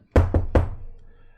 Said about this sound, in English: And this time I was kind enough to knock